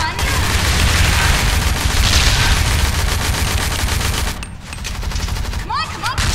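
Rapid automatic gunfire fires at zombies in the shooter game ZMR: Zombies Monsters Robots. It is loud, dense and sustained, with a brief lull before the firing resumes.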